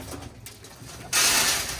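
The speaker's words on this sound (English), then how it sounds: "if I were to pour a little more feed on that tray, those birds all come down to that tray" Young Birmingham Roller pigeons gather at a feed tray: faint coos, then a sudden loud rush of flapping wings as the birds come down together near the listener.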